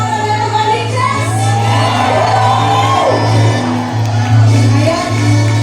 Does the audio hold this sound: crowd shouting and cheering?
yes